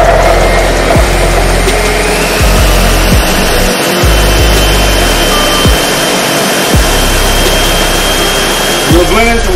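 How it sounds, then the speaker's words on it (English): A Ninja blender runs steadily, blending ingredients into a thick paste during prep for smoking a whole lamb, its loud motor whirring continuously with a few brief pulses and dips. "We're blending, so what we're gonna do is turn it into a paste."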